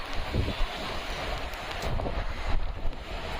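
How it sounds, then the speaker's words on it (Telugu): Strong gusting wind roars and buffets the microphone during a Hyderabad storm, with a dense wash of falling rain beneath it, loud and constant. "వర్షం స్టార్ట్ అయినా కానీ గాలి అయితే బంద వసక పడుతుంది"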